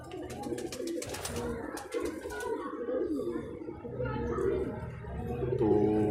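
A pair of teddy golden pigeons coo in soft, repeated rolling calls close by. Someone talks over the cooing for much of it.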